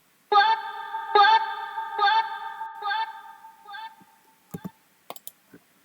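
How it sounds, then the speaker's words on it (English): A processed drill-style rap vocal chopped into repeated bursts, with echoing delay and reverb tails trailing off, followed by a few sharp clicks near the end. "this vocal mixing, just delay, reverb, nothing serious"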